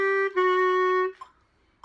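A Bb clarinet plays a short phrase from The Greatest Showman at beginner-lesson pace: one clean sustained note, a quick re-attack into a longer held tone, then two faint short blips.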